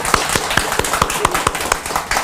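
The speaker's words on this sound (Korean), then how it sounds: "다시 박수." An audience at a Buddhist temple's Saturday dharma service claps in a steady, fairly rhythmic round, a few loud close hand claps over a softer crowd patter, continuing for a couple of seconds without talk.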